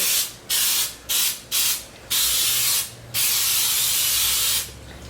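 Baking spray with flour hissing from a can into a pound cake pan in several bursts, a few short ones then two long steady sprays, loud and close.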